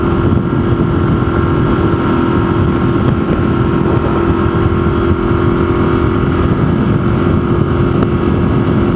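A motorcycle runs on the freeway behind a semi-truck, its loud, steady engine drone mixed with constant turbulent wind buffeting close to the microphone.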